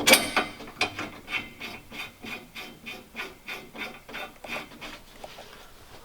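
Repeated rhythmic ratcheting as bolts are tightened down on a bunk bed frame inside a Sprinter van, a steady series of about a dozen close clicking-scraping strokes with no talking.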